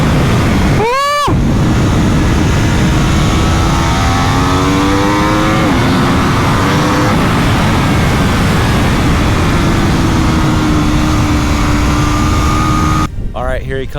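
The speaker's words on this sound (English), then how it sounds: "that RSV4 factory with that 65-degree V4 engine. Listen to that thing." Aprilia RSV4 Factory superbike with a 65-degree V4 engine on a racetrack: a close, loud pass with rapidly rising revs near the start, then a continuous engine drone that climbs and shifts through gears, with one more sharp burst at the end.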